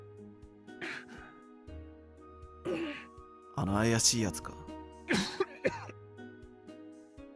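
Coughing from a masked young man in the PS4 adventure game Root Film, a harsh burst near the middle set among spoken voices and soft background tones.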